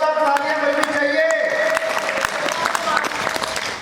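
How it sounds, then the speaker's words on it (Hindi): Wedding guests break into applause, a crowded wash of clapping layered over lingering musical tones and murmurs, with a few sharp individual claps standing out as it carries on. "जोरदार तालियां बजनी चाहिए"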